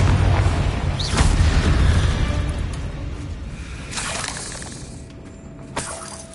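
Confringo fire spell blast in Hogwarts Legacy, a booming, shattering impact with a crackling burst, close and loud, then fading into debris noise and a few smaller pops.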